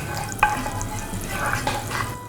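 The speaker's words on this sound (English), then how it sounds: "I'm going to start by sauteing 1 onion and 1 celery stalk" Diced onion and celery sauté in melted butter for beef chili, a soft continuous sizzle with occasional spoon taps and stirring scrapes against the pot.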